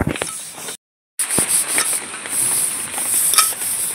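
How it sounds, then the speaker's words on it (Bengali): Gritty scraping and rubbing as a wok is scrubbed with eggshells, broken by a brief pause, then resuming steadily. "এই খোসা দিয়ে যদি আমরা কড়াইটা মেজে নিই, আমাদের কষ্টটা খুব কম হবে"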